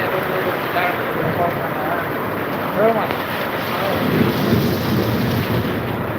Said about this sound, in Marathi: हे लातूरचा पाऊस बघा